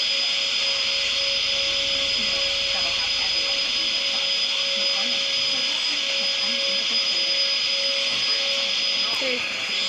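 A robot vacuum cleaner running at home among pets, a steady loud whirring hum with a high-pitched whine that holds constant throughout, close by, with a voice talking underneath.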